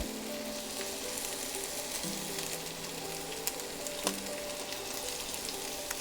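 Ginger sizzles in a tablespoon of oil in a pan for a steak stir fry, a steady crackling hiss with occasional sharp pops and faint stirring, no voices.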